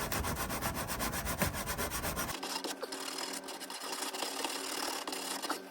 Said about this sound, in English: Gonna start out by sanding the outside of this.